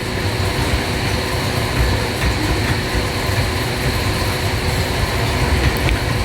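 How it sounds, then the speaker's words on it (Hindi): A freight train at Bahawalpur Railway Station in Pakistan slowly picks up speed, a steady loud rumble of rolling wagons and heavy engine drone with faint rail clatter throughout, no voices. "आहिस्ता आहिस्ता फ्रेट ट्रेन अपनी रफ्तार को पिक कर रही है।"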